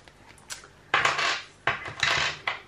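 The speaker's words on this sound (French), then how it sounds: "il reste de la monnaie tout simplement. On va donc venir la sortir." Loose coins tipped from a paper envelope onto a hard surface: a few light clinks, then two dense, bright metallic jingling bursts close by, with no one speaking.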